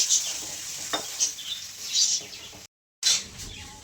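A cooked-down spice mixture for mughlai paratha is stirred in a pan, giving short, close scraping and sizzling bursts with a brief silent gap midway.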